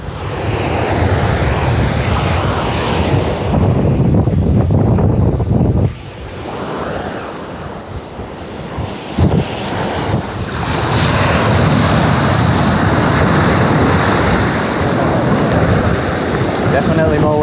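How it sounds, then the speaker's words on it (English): Ocean surf at a beach in Puerto Escondido, Mexico, rolls in loudly and continuously as waves break, with heavy wind buffeting the microphone and a brief lull midway. "Definitely more waves on this one."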